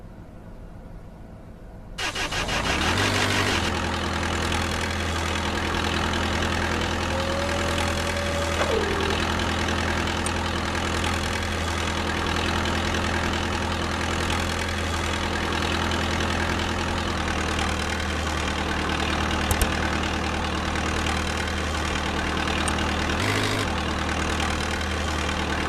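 A forklift engine in a virtual reality safety training simulation starts up after a quiet moment and settles into a steady, loud, low idle that runs continuously with little change.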